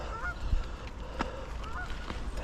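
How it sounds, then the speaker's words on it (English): Mallard ducks call outdoors in two short, nasal, honking bursts, fairly faint and distant over a steady low rumble of wind and ambient noise. "There's a duck there. 2 ducks."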